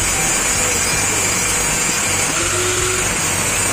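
A metal exhaust pipe for a Suzuki Raider 150 motorcycle is cut, giving a loud, continuous, harsh grinding and rasping noise that holds steadily throughout with no pauses and no voices.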